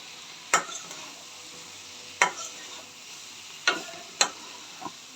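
Fried potato and eggplant with turmeric, chili and salt stirred in a pan, a spoon scraping in four or five separate sharp strokes over a faint sizzle, close and otherwise quiet.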